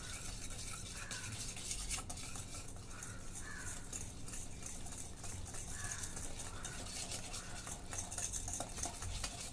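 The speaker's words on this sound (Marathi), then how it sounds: "थोडा थोडा टाकून मिक्स करून घेते." Continuous wet stirring and scraping of a spoon through thick flour batter for a chocolate cake in a bowl, steady and close for several seconds, with no talking.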